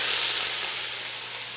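Onions sautéing in a pan over slightly lowered heat, a loud, close, continuous sizzle and hiss that stays steady throughout, with no voices.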